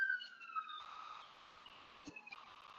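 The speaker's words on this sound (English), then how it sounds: "Sorry for the outdoor sirens." Distant sirens wail faintly, with a few soft knocks and rustles nearby; no one speaks.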